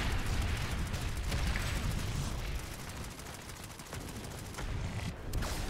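Loud, continuous burster gunfire and explosions in the online shooter Planetside 2, a dense rumbling barrage that dips slightly and then swells again.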